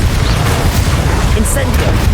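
A Bombarda explosion spell cast in the video game Hogwarts Legacy, heard as a loud, dense rumbling boom that fills the whole moment with heavy low-end blast noise.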